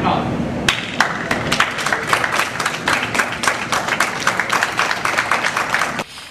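Audience clapping at a Lagos State event during an urban forum, a fairly close, uneven run of sharp individual claps that stops abruptly near the end.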